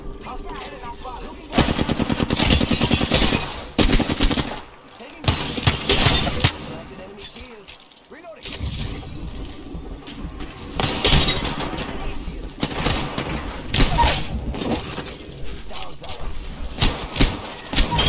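Rapid video game gunfire comes in dense automatic bursts with sharp cracks and breaking glass, loud and close, stopping for short gaps and then resuming over a busy background.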